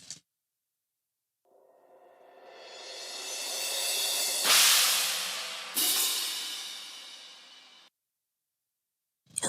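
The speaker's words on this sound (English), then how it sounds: "so I used cymbals from Albion 1" Orchestral cymbals from the Albion 1 sample library swell from silence into a long, hissing crescendo, peak with two bright crashes and then cut off abruptly. The wash is loud and shimmering, with no talking.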